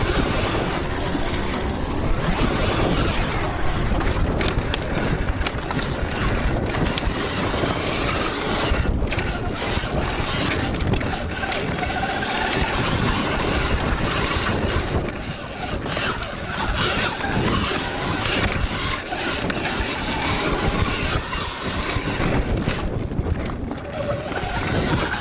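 A Sur-Ron electric dirt bike is ridden hard around a track, with wind and rushing noise at constant loudness, plus knocks and rattles from the terrain, all through a long continuous stretch.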